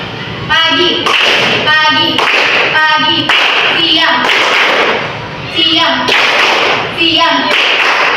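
Students in a classroom clap a rhythm together in a clapping game, with loud bursts of group hand claps and taps repeating in patterned phrases while children chant and a teacher's voice calls along between the claps.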